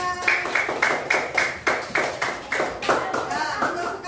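A classroom of students claps for a classmate in loud, rhythmic unison beats, roughly three per second, with voices mixed in.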